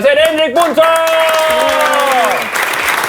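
A studio audience at a comedy quiz show applauds a guest captain, the steady clapping running beneath a host's loud, excited announcement.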